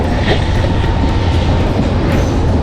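A slow local train rolls along the rails, its steady broadband rumble and rattle continuing without a break, close and fairly loud, with no talking.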